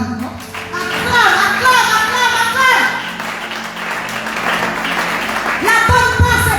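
A church congregation in worship claps and cheers in loud, sustained applause mixed with shouted acclamation and voices, rising and falling over several seconds.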